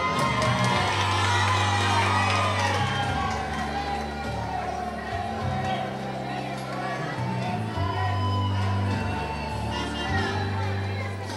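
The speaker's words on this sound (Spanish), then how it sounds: "Recibimos con un fuerte aplauso a la candidata de sexto A, Manuela Martínez Toro." A school crowd of children cheers, shouts and whoops for a pageant candidate at a school beauty contest, with loud festive music playing underneath throughout.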